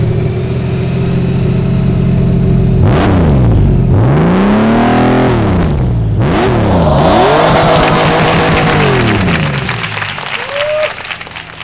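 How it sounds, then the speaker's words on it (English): A Honda Gold Wing motorcycle fitted with a Shark Road exhaust cranks and fires up, then revs in several loud rising and falling sweeps before settling toward a steady idle, close by with no talking. "That's just me starting the bike up."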